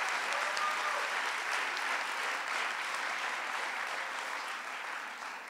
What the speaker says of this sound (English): Let's give Alan Fagan a big round of applause.